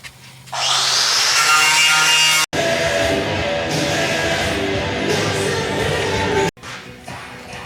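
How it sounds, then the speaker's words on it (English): An air chisel hammers hard material off a Ford Honey motor home, a loud continuous rattling blast that stops briefly and resumes, ending with a short final burst. "I can see we got everything off that we could get with the air chisel."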